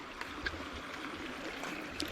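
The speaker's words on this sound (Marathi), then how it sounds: "इकडे छोटीशी नदी आहे आपली त्याला पण पाणी वगैरे आलं आहे भरपूर" A small river swollen with heavy monsoon rainwater in Konkan flows with a steady, close rushing and trickling wash, with no voices over it.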